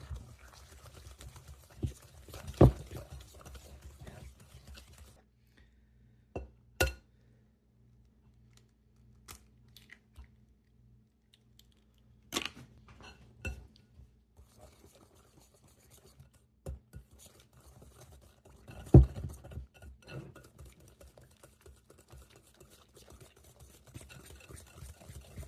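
Eggs being mixed one at a time into pecan bread batter in a bowl: sparse, quiet scrapes and clinks of a utensil against the bowl, separated by long near-silent gaps.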